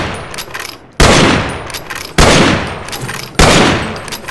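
Three loud rifle shots ring out in a Wild West video game, evenly spaced about a second apart, each a sharp blast with a long decaying tail.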